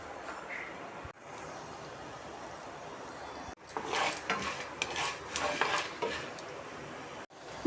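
Urad dal, mustard seeds, cumin and chana dal hit hot oil for tempering, making a faint hiss at first. Around the midpoint it grows into a louder crackling spatter, with utensil clinks and stirring and no speech.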